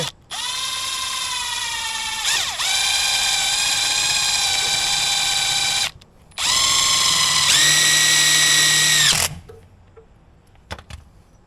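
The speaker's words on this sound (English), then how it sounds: "That I gotta screw these right in here." A power drill or screw gun drives drywall screws into a Yugo car, with two long, loud, steady whining bursts of the motor separated by a short pause, then near silence with a few faint clicks.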